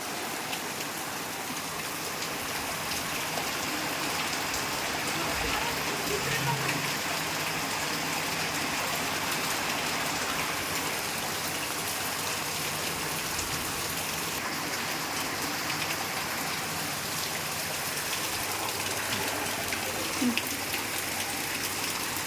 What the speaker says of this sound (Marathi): खूप पाऊस पडतोय बघा पाणी पूर्ण आले